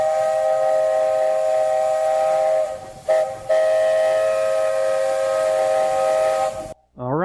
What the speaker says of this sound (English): That is the steam trains at the Walt Disney World Railroad.